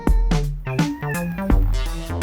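A cat meows several times up close, clear and loud, each cry a drawn-out, wavering call in a short burst.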